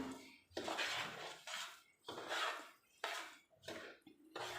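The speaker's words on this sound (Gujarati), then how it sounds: "અને ધીમા તાપે એને હલાવતા રહીશું" Semolina being stirred in a pan over a low gas flame for a large batch of sweet prasad, with repeated scraping strokes of a spoon against metal coming in several distinct bursts separated by short pauses.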